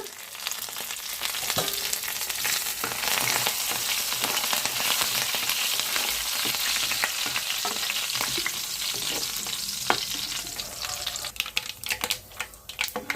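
Mustard seeds, cumin, curry leaves and dried chilies sizzle and crackle in hot oil while being stirred, a steady close frying hiss with scattered pops and clinks.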